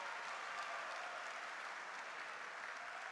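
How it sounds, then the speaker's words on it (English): Spectators at a table tennis match, including Polish fans supporting a European player, applaud and cheer in a sustained, even wave of clapping that fills the hall, with no clear speech over it. "And some of the Polish crowd representing Europe cheering for Stefan out here as well."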